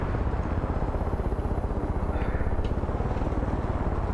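A helicopter in the video game Far Cry 5 flies and sets down, its rotor throbbing in a fast, steady rhythmic chop over a low engine roar, loud and close throughout.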